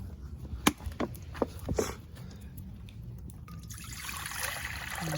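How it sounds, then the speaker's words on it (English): Water is poured into a teapot outdoors in the rain: a few sharp clinks and splashes early on, then a rising, steady pouring trickle, fairly faint and close. "Alright, so you add the water"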